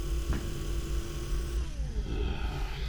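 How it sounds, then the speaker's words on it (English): An old, loud vacuum cleaner runs steadily with a constant low droning hum and whine, a faint shift in pitch partway through, close by with no talk. "Computer, bring me that old vacuum. The really loud one."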